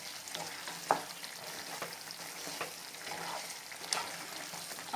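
Chicken changezi with green chilli and fresh coriander gets stirred in a pan, a continuous sizzle broken by scraping strokes and a few sharp utensil clinks against the pan.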